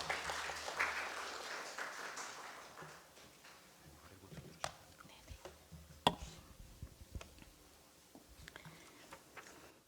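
Audience applause at an indoor policy debate forum on improving working conditions for care workers in Gyeonggi Province, South Korea; a faint, steady patter of clapping runs through the room, thinning toward the end.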